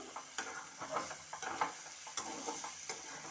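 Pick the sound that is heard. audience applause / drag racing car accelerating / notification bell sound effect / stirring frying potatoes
stirring frying potatoes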